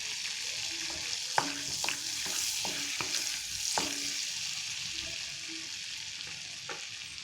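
Cinnamon and cardamom sizzling in butter in a pan for a peas masala gravy, a steady soft frying hiss with a few sharp stirring clicks and taps, near and alone with no talk.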